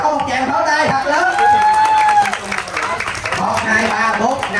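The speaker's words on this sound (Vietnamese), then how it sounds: "Cho một tràng pháo tay thật lớn." Crowd applause and cheering at a summer camp, with clapping and whoops mixed with lively chatter and voices over a steady, dense wash of noise.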